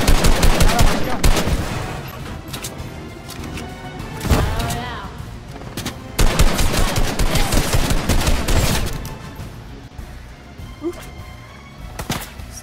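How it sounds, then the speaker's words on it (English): Video game gunfire breaks out in repeated bursts of rapid shots and automatic fire, some loud and close, others more distant, with a player talking now and then between volleys. "Someone shot."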